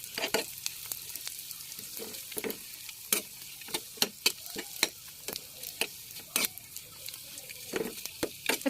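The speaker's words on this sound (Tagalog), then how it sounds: "nagpainit na tayo dito ng oil. Lalagyan na natin yung maliliit na tilapia" Small dried tilapia frying in hot oil in a pan, a steady crackling sizzle broken by frequent sharp pops and spatters as the fish is stirred, loud and close throughout.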